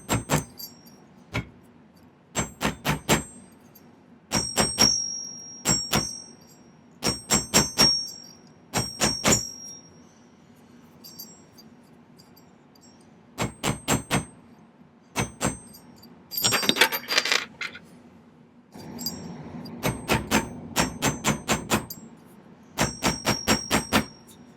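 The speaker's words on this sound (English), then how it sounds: "Now I think I'm going to take my chasing hammer" A chasing hammer strikes a silver ring being forged, ringing metallic taps in quick clusters of three to six blows separated by short pauses, close and sharp, with a brief scraping burst midway.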